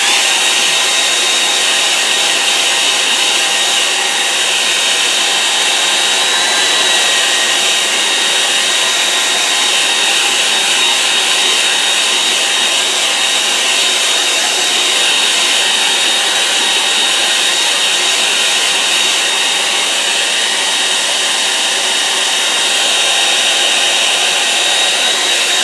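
Hair dryer blowing steadily and close on a wet watercolour painting, a continuous loud whooshing drone with a high whine that holds unchanged throughout, with no talking.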